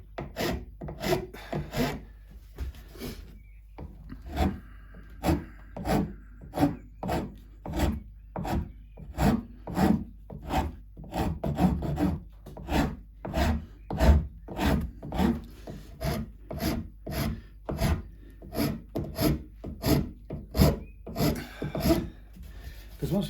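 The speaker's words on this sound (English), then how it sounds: "The scraping process is much more scrape touch, very much fingertip or skin led process." A hand scraper works the wooden profile of a Strat-style guitar neck in quick, regular rasping strokes, close and clear, about one or two per second with no pauses for talk.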